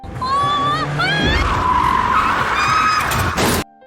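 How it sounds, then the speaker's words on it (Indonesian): A car losing control in a crash scene of a Korean drama, with loud, close tire squeals and skidding that wail and shift in pitch for several seconds before cutting off abruptly. "Ia justru terlibat kecelakaan dengan mobil Rara yang tiba-tiba kehilangan kendali."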